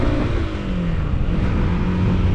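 Yamaha YBR 125 motorcycle engine running steadily with a continuous low drone and a slight pitch dip, close and loud, with no speech.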